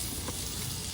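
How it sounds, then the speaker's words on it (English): Mushrooms sizzle in about a stick of butter in a cast iron pan, a steady, soft, even hiss that does not change across the short moment. "throw about a stick of butter in the cast iron. Throw some mushrooms"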